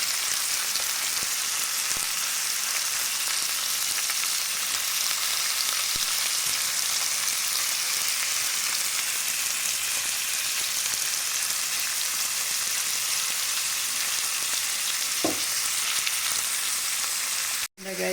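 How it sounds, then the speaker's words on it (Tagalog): Pork ribs sizzle and fry in a pan for sinigang, a dense steady crackle of hot oil close up that continues for a long stretch, with a sharp clatter at the end. "Ang buto-buto, igisa muna natin to guys."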